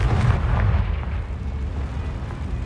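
Confringo spell explosion in the video game Hogwarts Legacy, a loud low rumbling blast that decays slowly.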